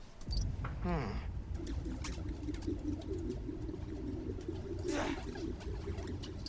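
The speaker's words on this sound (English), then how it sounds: "Quiet on their own, loud in a group. Loud in a group? Pigeons." Pigeons cooing in a city park in a video game, with soft repeated coos and a few flutters over a steady ambient bed, with light background chatter.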